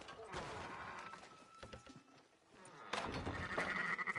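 Sheep bleat in Red Dead Redemption 2, faint wavering calls over quiet outdoor game ambience, followed by a louder burst of activity toward the end.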